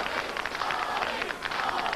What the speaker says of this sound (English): Give that nice round of applause for Matt's partner.